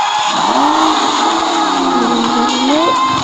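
A car drives off, its engine note rising and sweeping in pitch over steady broadband road and wind noise, loud and close throughout with no speech.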